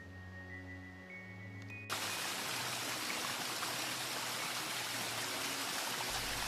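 Waterfall at the fourth footbridge along the Bisse du Torrent-Neuf irrigation channel, a constant full rushing roar that cuts in suddenly after a quieter opening and stays loud and even.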